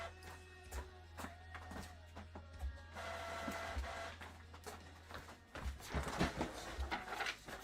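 A desktop printer runs through a print job nearby, with rhythmic mechanical passes and clicks, a steady motor whir and a louder feed burst near the end, with no talking.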